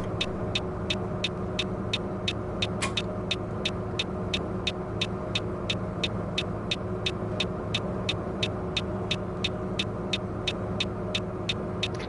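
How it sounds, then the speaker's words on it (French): Steady low bus engine rumble in the video game Fernbus Simulator, with a constant drone, heard as if from inside the vehicle, with a rapid regular ticking clicking on top throughout. "On entend le moteur comme si on était dedans."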